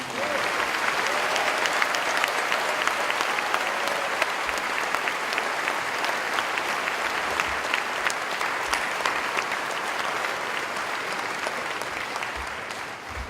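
Sustained applause from a large audience at a 2019 Harriton High School graduation ceremony following the valedictorian's speech, a dense steady wash of clapping that holds loud throughout without talk.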